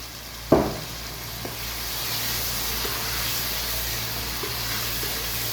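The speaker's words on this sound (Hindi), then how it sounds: "इसी तरह भुनाई करूँगी मैं" Mutton paya masala with chickpeas sizzles and fries steadily in a pot, a continuous hiss following one sharp clank near the start, with a few faint knocks and no talking.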